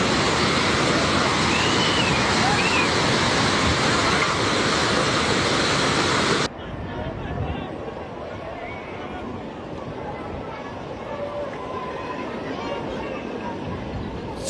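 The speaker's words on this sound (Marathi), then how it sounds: "पाण्याच्या महाकाय लोंढ्यामुळे नेपाळमधल्या हायड्रो इलेक्ट्रिक प्रोजेक्ट वाहून गेला" A massive flood torrent in Nepal, the water that swept away a hydroelectric project, roars loudly as one continuous wall of rushing noise, then drops abruptly midway to a quieter but still steady rush.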